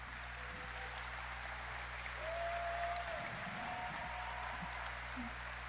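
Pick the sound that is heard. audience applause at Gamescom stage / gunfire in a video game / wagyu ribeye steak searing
audience applause at Gamescom stage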